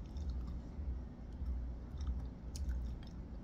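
Crispy fried pork skin from bagnet being chewed close to the mic, steady wet crunching bites repeating throughout with low background rumble and no talking.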